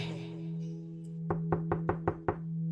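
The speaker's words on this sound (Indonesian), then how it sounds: "seperti ada yang mengetuk pintu" Six quick, evenly spaced knocks on an apartment door in a luxury building, close and crisp over a constant low electrical hum, with no voices.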